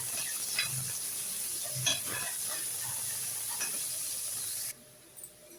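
Chopped onions sizzle softly in a pan with a steady hiss while cooking for Chettinad mutton kuzhambu, broken by a few scraping stirs, before the sizzle drops away near the end.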